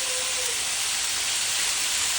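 Steak sizzling on a home hibachi griddle just after being flipped, a dense steady hiss close up with no talking.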